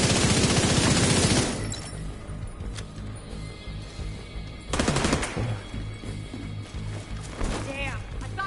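Deployed turret in The Division 2 video game firing a rapid burst of automatic gunfire, loud at first, then further intermittent shots and bursts with a voice speaking over them.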